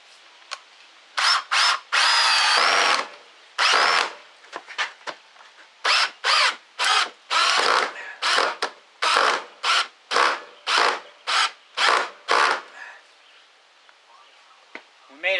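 A Ridgid cordless drill bores through wood on speed 2, running in loud, close bursts of whirring, about a dozen short pulses starting and stopping in quick succession, with the motor alone and no talk.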